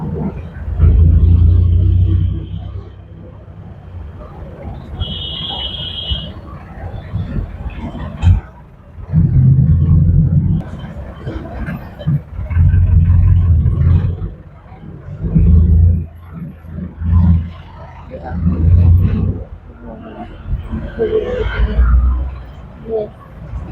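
City road traffic rolls past as heavy engines rumble low and loud, swelling and fading in waves as vehicles pass close by, with short quieter gaps between them.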